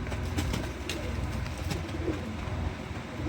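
Racing homer pigeons, a blue bar male and a black checker female, coo in soft repeated throaty bursts close by, with a few faint chirps in the background.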